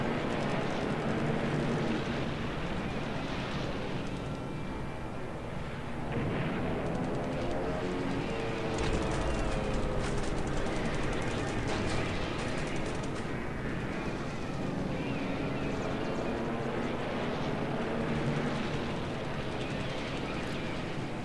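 Aircraft combat in the War in the Pacific computer game produces a continuous droning roar of engines, mixed with dull thuds of distant gunfire and explosions, steady and moderately loud throughout.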